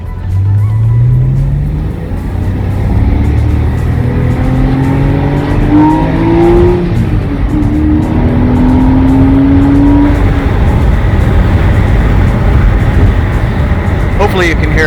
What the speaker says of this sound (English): Hopefully you can hear how nice the engine sounds.